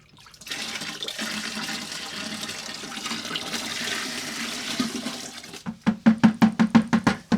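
The last of the drained liquid is dumped into a container during a Caterpillar D330 water pump repair. A steady, close splashing pour runs for several seconds and then breaks into a quick series of rhythmic glugs.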